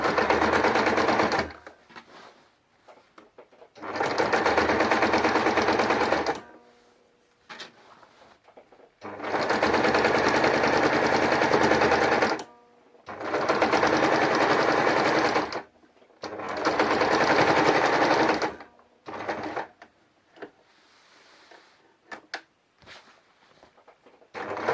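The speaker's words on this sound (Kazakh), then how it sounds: "Енді айналдыра тігіп шығамын" A sewing machine stitches around the edge of a decorative cushion, running in several long, steady whirring bursts separated by short pauses, close and clear with no talking.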